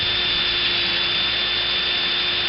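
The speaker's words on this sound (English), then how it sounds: "I'm drilling down." A drill bit bores into a zinc circle with a steady, continuous high whine and grinding hiss, loud and close throughout with no talk.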